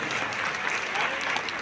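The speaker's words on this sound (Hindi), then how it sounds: "मैं चाहता हूँ उन दोनों के लिए एक बार जोरदार तालियां।" Applause from an audience at the Alwar Utsav poetry and cultural festival, a steady, dense wash of clapping that stays even and fills the short moment without speech.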